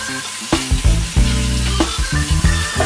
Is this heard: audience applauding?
no